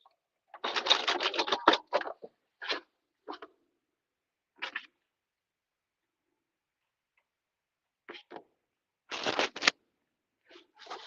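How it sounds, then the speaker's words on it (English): Home sewing machine stitching a short back stitch on culottes sewn from a thrifted tablecloth: a fast burst of rattling ticks, then several short separate bursts with pauses between, close and clear. "I probably should just do a little tiny back stitch there."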